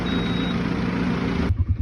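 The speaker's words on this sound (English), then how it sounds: "you can hear the forklift beeping, it's on its limit" Steady mechanical droning with a high warning tone, then a few rhythmic low pulses near the end as the engine note changes.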